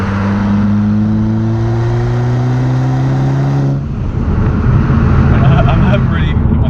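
Golf Mk5 GTI engine pulls smoothly as the car accelerates along a road, a steady rising drone that ends in loud road and wind rush for the last few seconds.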